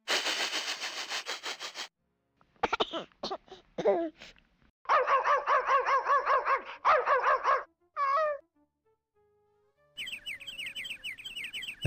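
Synthesized dog barking from the 1994 adventure game King's Quest VII: The Princeless Bride, bursts of harmonic yips and barks mixed with electronic chirping tones, separated by brief silences.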